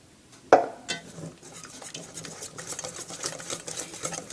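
Crêpe batter whipped hard in a bowl: a sharp knock opens, then a steady, rapid clatter and scrape of the utensil against the bowl continues close up and fairly loud, with no talking.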